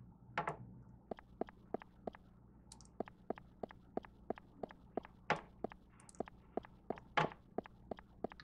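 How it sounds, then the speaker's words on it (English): Footsteps in the horror video game I See You tap out a steady, evenly spaced walk of about twenty crisp steps, fairly quiet and alone, with a few louder knocks among them. "I can hear your footsteps."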